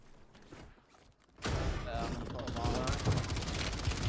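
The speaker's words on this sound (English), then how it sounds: "But he's got a fire shotgun." A fire shotgun goes off in Call of Duty Rebirth Island, loud rapid gunfire erupting partway through after a quieter start and continuing to the end, with voices talking over it.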